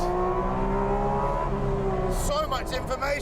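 Carbon-bodied Porsche engine revving hard at full throttle, a steady high-pitched engine note that climbs and then breaks into rising harmonic sweeps near the end, with a voice talking over it throughout.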